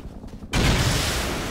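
Rockets slam into a wooden house during a raid in the game Rust, starting with a sudden loud blast after a quiet moment and trailing into a dense, noisy rumble.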